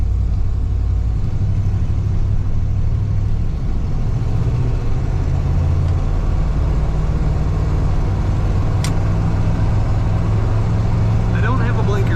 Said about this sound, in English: Today we have a 1960 Chevy El Camino. I'm going to take it for a drive.